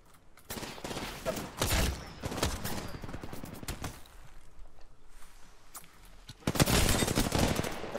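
Apex Legends gunfire, with several bursts of loud shots, a quieter stretch of distant crackling in the middle, and a heavy barrage at the end.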